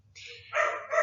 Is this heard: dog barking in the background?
yes